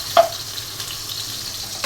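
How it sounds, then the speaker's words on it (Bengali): Onions frying in a pan give a soft, steady sizzle with one brief knock of a utensil near the start. "রান্নার জন্য পেঁয়াজটা ভেজে নিচ্ছি।"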